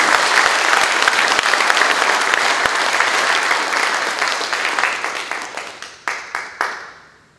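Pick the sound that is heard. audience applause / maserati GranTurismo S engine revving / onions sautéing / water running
audience applause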